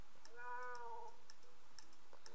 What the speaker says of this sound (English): Wait, was that a cat?